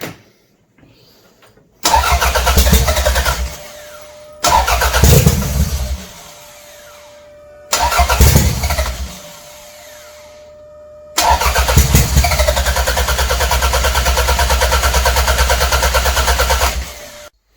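A turbocharged Toyota MR2 rat rod engine cranks and fires with its throttle wedged partly open, catching in three short loud bursts before settling into a steady, sustained high idle that runs on to the end.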